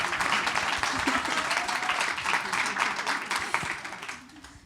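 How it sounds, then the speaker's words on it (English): Audience applause rolls on steadily at moderate volume, a continuous wash of clapping that tapers off toward the end. "We're applauding and smiling"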